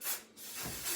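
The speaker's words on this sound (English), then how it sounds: "This is just a finishing spray" A finishing hairspray hisses in two quick close bursts from an aerosol can, with a brief gap between them.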